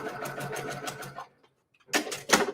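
A sewing machine stitches a quilt block: a steady run of rapid, rhythmic stitching up close, a brief pause, then two short bursts of stitching, with no talking.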